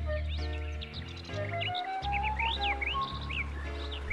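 Birds chirp and tweet repeatedly throughout a 3D animated children's story of crows and a snake, bright calls scattered over a sustained musical background.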